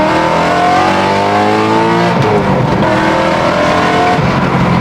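A BMW E92 M3 engine revs hard and accelerates, its rising harmonic pitch climbing steadily before dropping and building again, loud and close with no talking.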